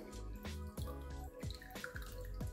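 Rice water is poured and strained through a strainer into a smaller container, with repeated splashing pours and trickles in short bursts, close and fairly quiet.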